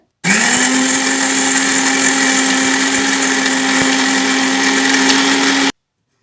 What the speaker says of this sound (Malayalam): ഇനി ഇതെല്ലാം നമ്മൾ മിക്സിയിൽ നല്ലോണം അടിച്ചെടുക്കുകയാണ് ചെയ്യുന്നത്